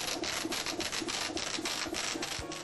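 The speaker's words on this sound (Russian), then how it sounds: "Сейчас книги печатает специальный принтер, который переводит обычный текст в рельефно-точечный." A braille embossing printer punches raised-dot text onto paper, with a fast, steady train of rasping mechanical strikes about four per second, close and continuous.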